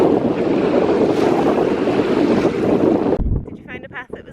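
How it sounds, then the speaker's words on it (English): Strong wind on a hilltop on the Isle of Skye roars steadily across the microphone, then cuts off abruptly near the end, leaving faint quieter sounds. "It's so windy up here."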